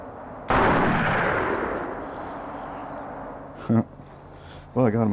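One sharp, booming sniper shot rings out in The Thing video game and decays slowly, followed by two short bursts of a man's speech.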